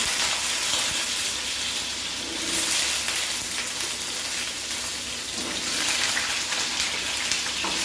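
Potatoes frying in hot mustard oil for Kashmiri aloo dum, a loud, dense, continuous sizzle and crackle close up, steady throughout with no talking.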